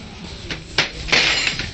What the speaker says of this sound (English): that sounded like glass breaking